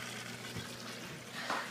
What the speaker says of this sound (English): the air bubbles start up again